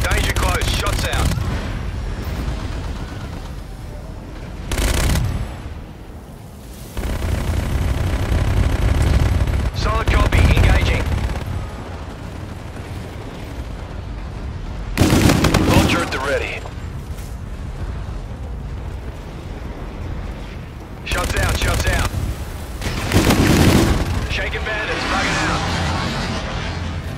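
Video game gunfire bursts out in repeated loud volleys and rattling automatic fire, separated by quieter stretches, with voices and game sounds mixed in throughout.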